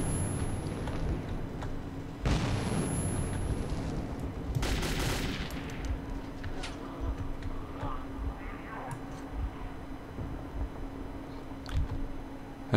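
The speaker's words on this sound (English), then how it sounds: "Grenades everywhere." Gunfire and grenade blasts in the shooter game Metro 2033, a loud sustained barrage with sharp bursts around two and five seconds and continued shots afterward; a voice is partly audible beneath the noise.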